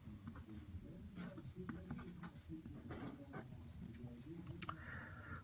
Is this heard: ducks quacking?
no